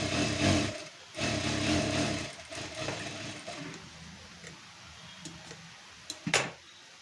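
A sewing machine runs stitches through layers of cloth in short bursts, fairly close and quiet, starting and stopping with a few small clicks and handling sounds between runs.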